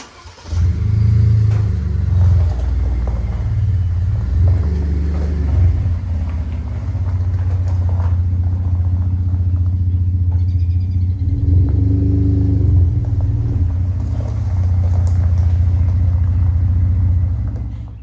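A Ford F-150 pickup truck engine idles and revs with a low, steady rumble, close by, swelling a few times as it backs in slowly in the rain, running continuously throughout.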